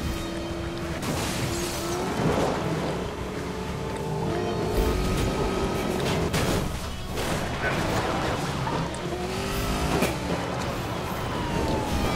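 Cars racing in Need for Speed Most Wanted (2012), including a Koenigsegg, with engine roars rising and falling, shifting pitch sweeps and crash impacts over a dense, busy game mix throughout.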